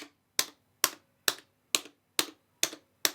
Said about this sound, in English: I'll give you a quick test of the sound of these buttons.